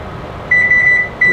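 An oven control panel beeps as it is set to bake, giving a long electronic tone and then a second shorter one. Both are clear and close over faint room noise.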